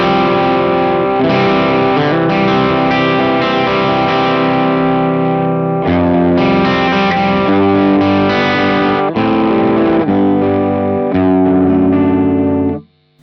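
An electric guitar runs through a Matchless D-30 amp model with the bright cap switched off, ringing out sustained, driven chords and notes continuously and loudly for about thirteen seconds before cutting off at the end.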